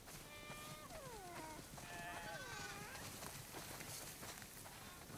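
In the video game The Last of Us Part II, several sheep being herded into a barn bleat in overlapping wavering calls over a constant background hiss, loud and close, with a brief soft voice.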